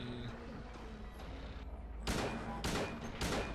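Three loud gunshot bursts in the game Silent Hill 2 ring out in quick succession over a steady low hum, with sharp broadband cracks spaced roughly half a second apart.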